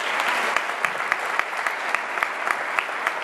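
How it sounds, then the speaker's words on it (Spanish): Steady applause from a concert audience at a Lent concert by a band in Socuéllamos, a dense wash of many hands with a few sharper claps standing out, moderately loud and continuous throughout. "Pido un fuerte aplauso para ellos."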